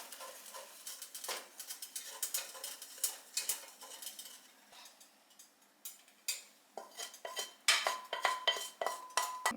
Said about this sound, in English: Just gonna keep on stirring